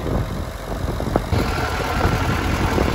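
A Claas Challenger 55 tractor engine rumbling at idle after starting, a steady low drone with a slight rise partway through and no talk over it.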